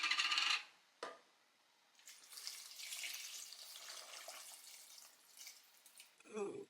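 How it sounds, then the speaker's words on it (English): Water is poured from above onto rolled grape leaves packed in a cooking pot, a soft continuous splashing and trickling heard close up, with a brief clink at the start and a clatter at the end. "I'm gonna put this water right on top."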